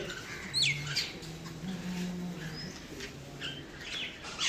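Scattered chirps from sparrows and crows outdoors, short and intermittent, with a low cooing tone and soft ambient noise beneath.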